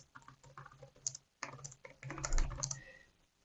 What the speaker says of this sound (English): and I can type anything